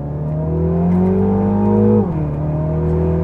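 A 2023 MINI John Cooper Works Cabrio accelerates hard, its engine note climbing steadily in pitch for about two seconds, dropping as it shifts gear, then pulling again; loud, close, with no talking.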